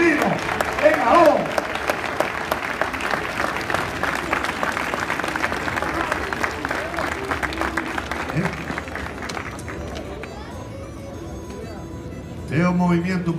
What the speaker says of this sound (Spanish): dámonos un aplauso, a ver si nos animamos un poco